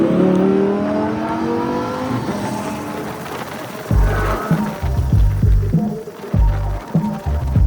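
An electric bumper car driving and drifting, its motor whirring and humming up close with surging, revving-like swells and bumps, mixed with scattered background noise over several seconds.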